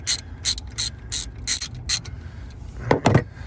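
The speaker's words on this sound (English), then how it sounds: "Now I'm going to loosen this bolt up here that I was telling you about for the bracket." A ratchet wrench clicks rapidly in six short bursts while loosening a 10 mm bolt on the 12V battery bracket of a Tesla Model Y, followed by two duller knocks of metal at the end, close and loud.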